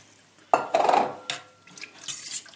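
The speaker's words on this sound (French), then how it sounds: "je rajoute un demi-litre d'eau" Half a litre of water poured into a pot of sausage rougaille, a brief splashing rush under clinks of the pan, loud and close, then easing off into softer trickles and stirring.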